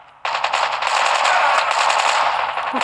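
Sustained automatic gunfire from the mobile shooter game Call of Duty Mobile, a loud continuous burst that starts abruptly and runs steadily with no talk over it.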